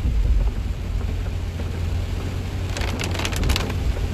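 Heavy rain pours down in a storm, heard from inside a vehicle on a police ride-along: a dense, loud, steady roar of drops drumming on the surface, with no speech.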